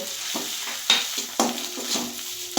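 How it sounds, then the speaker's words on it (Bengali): Spice paste sautéing in oil in a pan for a restaurant-style eggplant vegetable dish, with a spatula scraping in repeated short strokes over a steady, close sizzle and no talking. "এটা দিয়ে মশলাটা আমি একটু কষিয়ে নিচ্ছি"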